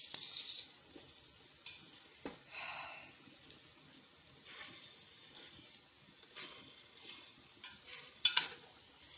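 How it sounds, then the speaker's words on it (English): Meat for an Asian curry sizzles steadily and browns in a pan, with occasional scrapes and stirring clatter, close up and without talk. "wait until it starts sizzling and browning"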